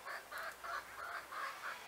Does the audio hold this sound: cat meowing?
no